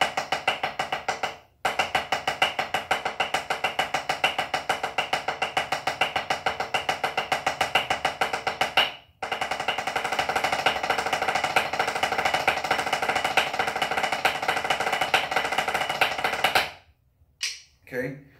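A drum playing the 2-3-1 triple stroke sticking up to speed, a fast, dense roll of rapid strokes broken by two brief pauses, close and loud, ending in a few separate hits.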